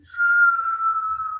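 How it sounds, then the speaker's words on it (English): Whistling breath drawn in through puckered, rounded lips during a Kundalini yoga breathing exercise, one steady sustained tone lasting over a second, clear and close with no talking. "do your best to make a whistling noise. Your lips are puckered, rounded mouth, and you're inhaling in"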